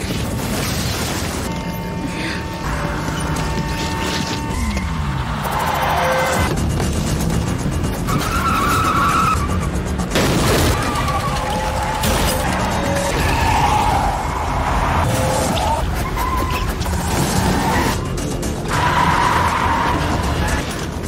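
A runaway car careering out of control in a chase, with long tire squeals and skidding over a loud, continuous engine roar and rumbling impacts, dense and close throughout.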